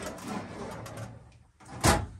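Large drawers slide out of the cabinetry in a tiny house skoolie kitchen, a quick rolling slide ending in a loud close burst near the end, heard up close.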